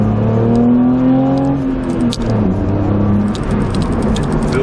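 A 2005 BMW Z4 3.0 (E85) roadster on the move with a newly replaced gas pedal: a steady engine drone heard from inside the car, with a low rumble and a faint rise in pitch.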